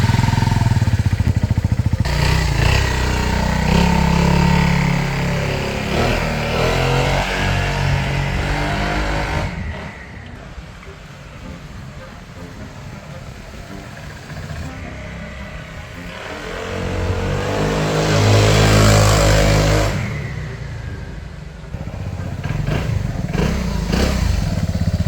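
A Vespa GTS 300 scooter fitted with a swapped liquid-cooled four-valve engine runs loud and close, revving up, easing off to a quieter stretch mid-way, then rising again with a strong, clattery mechanical note.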